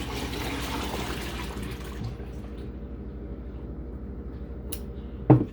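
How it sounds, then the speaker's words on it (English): Milk pours steadily into 5-gallon pots, a dense rushing stream for about two seconds that then thins to a quieter, lower trickle, ending with a brief knock of the pot near the end. "And then we'll just pour that into our 5-gallon pots here."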